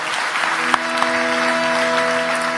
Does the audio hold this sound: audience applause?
yes